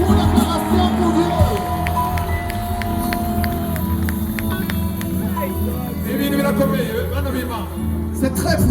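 Church congregation cheering and acclaiming God at a Kanguka gathering in Bujumbura, a steady roar of crowd voices and shouts with some clapping, sustained throughout at a loud level.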